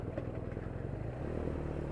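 A 2017 BMW R NineT Urban G/S scrambler rumbles steadily while cruising, its exhaust a low, even drone heard close and fairly quiet, with no talking.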